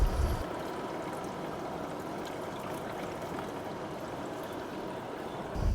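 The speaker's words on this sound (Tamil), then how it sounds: "இப்போ வாட்டர் பம்பை வந்து ஆன் பண்ணிவிட்டேன் இப்போ தண்ணி சொட்டுதா" An old scrapyard air cooler, restored, runs its water pump so water drips and trickles onto the cooling pads, a steady, even wash of watery noise that holds for several seconds with no voices.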